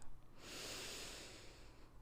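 One slow, deep breath drawn in through the nose during a calm meditation, a soft airy rush that swells and fades, close and quiet with no talking.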